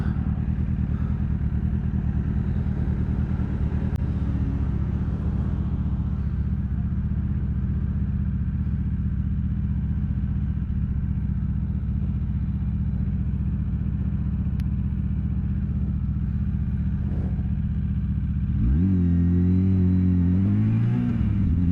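A motorcycle engine thrums steadily at low speed in second gear, close and loud, with a brief rise in revs near the end.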